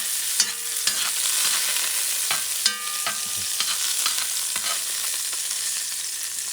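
Chopped onion frying in a pot for a chicken stew sofrito, stirred with a few scrapes and knocks over a steady, close sizzle with no talking.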